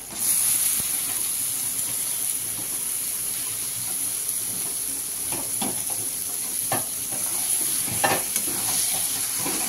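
Chicken pieces sizzle and fry in a pan for a chickpea (kabli chola) curry, with steady hissing and scraping, clattering stirs throughout, loud and close with no talking.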